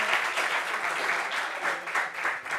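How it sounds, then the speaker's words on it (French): A roomful of people applauds in a close, continuous burst of clapping during a gathering, steady and fairly loud throughout. "Est-ce qu'on peut applaudir Stéphane?"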